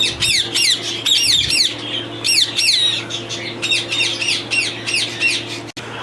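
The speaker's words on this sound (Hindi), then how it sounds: "और रिंग नेक भी हैं, वाइट येलो रिंग नेक।" White and yellow ringneck parakeets at a breeding farm in Faisalabad let out loud, harsh squawks in rapid overlapping bursts, close by, over a steady low background hum.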